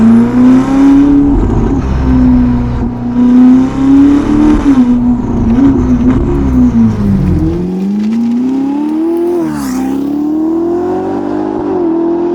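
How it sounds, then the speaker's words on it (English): A Novitec-tuned Ferrari SF90 Spider engine idles with a deep burbling exhaust, then revs sharply up and settles, loud and close, with no talking. "This is a certain version of the exhaust."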